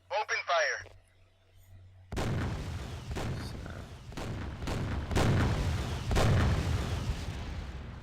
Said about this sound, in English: So that's the artillery.